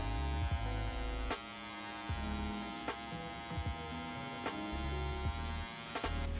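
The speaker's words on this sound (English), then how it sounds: "use the trimmer, yeah, like that" A hair trimmer runs steadily through a mid fade haircut, its electric buzz holding constant with a few brief clicks and knocks as it moves over the head.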